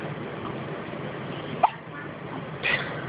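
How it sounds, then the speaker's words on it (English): A baby swaddled like a little wrap hiccups once clearly and makes a faint second sound, close and soft against a steady background hum. "He's got some little hiccups."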